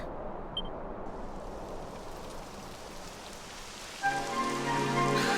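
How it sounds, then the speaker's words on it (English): Steady rain in the video game Dragon Quest XI patters on a surface throughout, a soft continuous hiss that grows fuller near the end as a humming tone joins in. "It would have to go and start raining, wouldn't it?"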